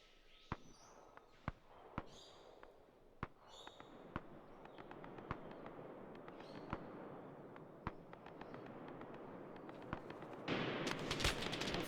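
Gunfire from AI enemies in a tactical military shooter game: scattered sharp single shots popping at irregular intervals at middling distance, growing denser with a heavier burst near the end, with faint background ambience.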